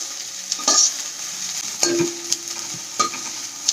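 Onion browning in a hot pan sizzles softly while a spoon scrapes through it in a few sharp strokes, close by, with no talking.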